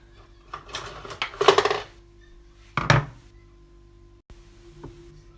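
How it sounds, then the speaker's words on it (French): A rolling pin works tortilla dough thin on a floured kitchen counter. It makes irregular clattering knocks and bursts of rolling contact, separated by quiet gaps, close and fairly loud. "Et je vais étaler très finement chaque boule. Avec un rouleau."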